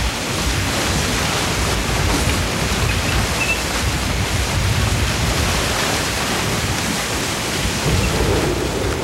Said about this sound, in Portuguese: por vários dias borrifaram a lava com milhões de litros de água do mar